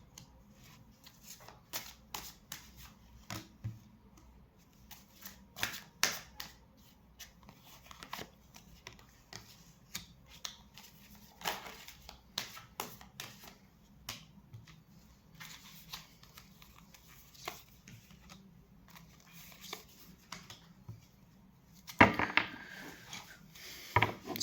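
Tarot cards shuffled and handled by hand during a reading, soft papery riffles and flicks coming in scattered bursts, quiet and close, with a louder rustle near the end.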